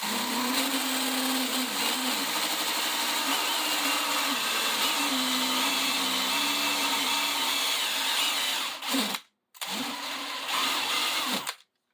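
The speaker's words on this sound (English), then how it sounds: "It's a machine tool made for making a precise size diameter hole in a piece of steel." A worn machine-shop reamer, driven by a power tool, bores out the hole in a bottle adapter with a loud, steady whine for about nine seconds, then cuts out briefly, restarts and stops at the end; no one speaks.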